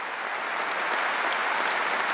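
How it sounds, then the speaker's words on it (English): A full rugby stadium crowd at a Top 14 match between Stade Rochelais and RC Toulonnais applauds in tribute, with dense, sustained clapping that fills the ground evenly throughout. "Given the applause of everyone in the ground."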